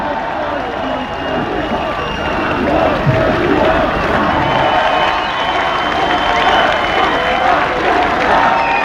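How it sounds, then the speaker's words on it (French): Large crowd at a French presidential campaign rally in Paris, applauding and cheering in a steady, dense wash that swells slightly partway through and holds loud to the end. "Allez, on peut applaudir encore plus fort Martine Aubry."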